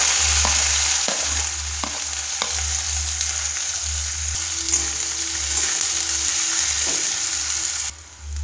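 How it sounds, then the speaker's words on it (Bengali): Chopped onions with green chilli and whole cumin fry in mustard oil in a pan, a loud, close, continuous sizzle with occasional stirring scrapes and clicks, no talking. "পেঁয়াজ পুরো ভেজে ফেলবো না, অর্ধেক ভাজবো।"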